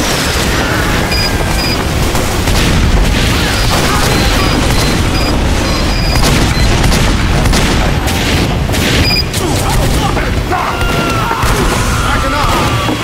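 Loud, dense gunfire and booming explosions from a Team Fortress 2 match fill the whole stretch, with rapid shots, crashes and mechanical clanks layered continuously and a player's voice talking at times over the noise.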